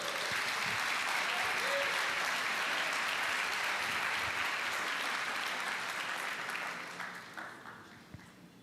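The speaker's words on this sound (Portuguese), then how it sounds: "Pode aplaudir o Senhor por isso." A church congregation applauds together in a dense, steady wave of clapping that holds for several seconds and then gradually tapers off.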